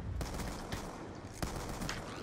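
Gunfire in Black Ops 2, with the player holding a pump-action shotgun; several sharp reports stand out over a dense, continuous layer of game noise and battle ambience.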